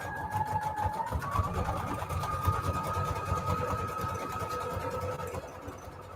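A sewing machine runs a decorative star stitch on its widest, longest setting, likely through scrap paper, with a rapid, even mechanical chatter and a faint whine held steadily throughout at close range.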